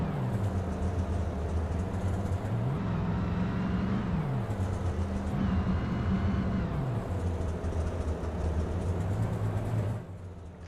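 A Tour Mod race car's engine drones at Myrtle Beach, its pitch dipping and rising several times as the driver clutches and lets the car roll, with a steady roar throughout and a drop near the end.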